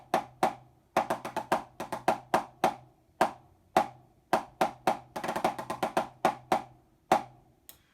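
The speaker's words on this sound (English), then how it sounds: "the sound of the drum pad would sound like this" Drumsticks strike a rubber percussion practice pad in quick, uneven bursts of sharp, dry taps, some single and some in fast clusters, close and fairly quiet, with no talking.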